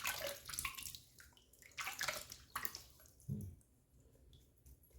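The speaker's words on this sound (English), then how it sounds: "Put a little water on the face." Close splashing water on a face in several quick bursts during a shave routine, with drips and a trickle in between, quiet and intimate, without talking.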